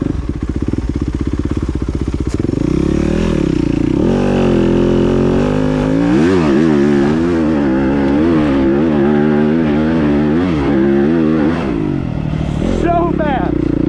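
A dirt bike accelerates hard through first, second and into third gear on a trail, its engine note climbing in repeated rising sweeps, loud and close throughout, with a rider talking over it at times.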